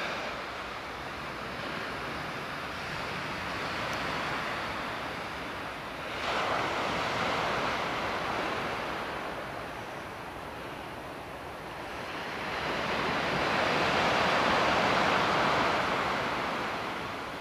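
Waves wash onto a beach near Watchet in a steady broad roar that swells and recedes, with wind noise and no talking.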